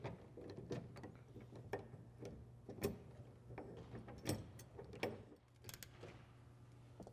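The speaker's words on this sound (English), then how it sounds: "then tighten them down with our wrench." A hand wrench tightening bolts on a bed rail flag pole mount on a Toyota Tacoma or Tundra, giving soft ratcheting clicks and metallic ticks in irregular bursts, close and quiet, with no voices.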